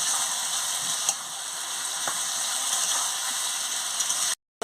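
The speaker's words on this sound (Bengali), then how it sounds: "ভালো করে কষিয়ে নিচ্ছি আনাজগুলোকে, আলু, ফুলকপি" Potatoes and cauliflower sautéed in a pan, a close, steady sizzle with a few sharp stirring clicks, heard alone before a brief cutout at the end.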